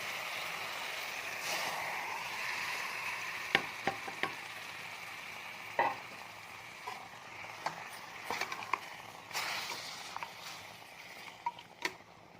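Ground masala fries in a pan for a military-hotel-style mutton curry: a quiet, even frying hiss broken by scattered spoon taps and scrapes.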